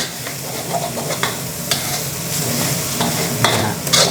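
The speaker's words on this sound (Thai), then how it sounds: "พอไข่ขาวเริ่มสุกนะครับ เราก็ ยีเลย" Egg frying over high heat in a deep, plain aluminium wok while being broken up and stirred, with a steady close sizzle and scraping strokes of the spatula against the metal, for Thai fried rice with dark soy sauce.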